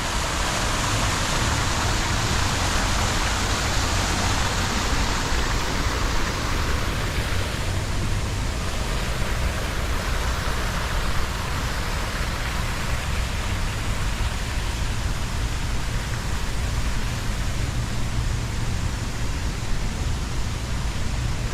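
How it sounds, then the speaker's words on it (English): Spanish Fountain in downtown Mobile, Alabama, water splashing in a steady, dense hiss like heavy rain, continuous and fairly loud throughout with no talking. "Here comes the fountains right here."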